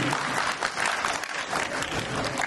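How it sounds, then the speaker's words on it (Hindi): Loud, sustained applause from an audience at a trust scholarship program event, with many hands clapping densely and steadily throughout. "जोरदार तालियां हो जाएंगे के लिए।"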